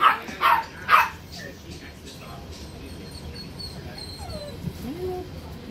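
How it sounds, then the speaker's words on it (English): Small puppies give a few short whimpers and yelps near the start, close by, then fall to soft low activity beneath quiet background noise. "the little puppies don't want to play."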